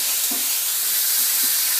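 Beef browns in a pot for borscht with a steady, bright sizzling hiss, punctuated by a few soft low bumps, close and continuous with no talking.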